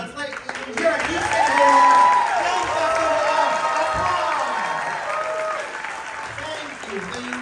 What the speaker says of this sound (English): Give it another big applause.